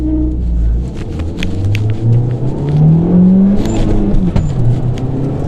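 A Peugeot 208 GTi engine revs up hard, its low roar climbing steadily in pitch through the gears, loud and close inside the car.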